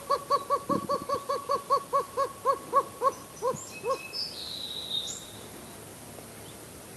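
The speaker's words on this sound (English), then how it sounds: "This is what's referred to as the bark call, and this often sounds like coyote yelps." Greater roadrunner giving its bark call, a rapid series of about fifteen evenly spaced yelping notes like a coyote, clear and fairly close, then fading into quiet outdoor ambience with insects.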